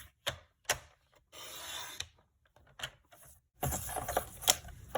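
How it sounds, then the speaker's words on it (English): Cardstock is trimmed on a paper trimmer in a series of short separate sliding cuts and scrapes, close and fairly quiet, with brief pauses between strokes. "I'm going to trim off from the top."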